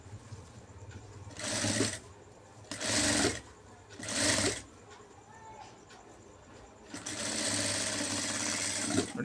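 A sewing machine stitches a blouse at a half-inch margin in short, separate runs. Several whirring bursts come from close by, followed by one longer steady run, and quiet speech is heard between them.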